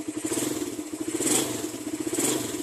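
Motorcycle engine revved hard with the throttle to test its condition, a close, steady pulsing roar with rising and falling surges, no talk over it.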